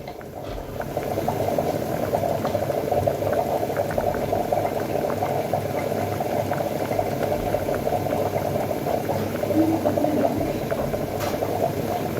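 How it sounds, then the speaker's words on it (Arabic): Eggplant simmering in a pot of water, a continuous rolling boil with dense bubbling and gurgling throughout, steady and close, without any talk. "احنا مخلينا كده لما تغلي وتستوي"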